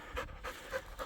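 A puppy pants quickly and softly, about four short breathy huffs in quick rhythm, close by with no talking.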